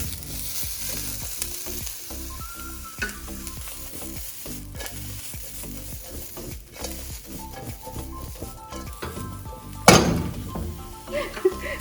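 Finely chopped green chillies sautéing in a hot pan for a restaurant-style hot and sour soup: constant loud frying hiss with rhythmic stirring scrapes and a sharp metallic clank near the end, close by.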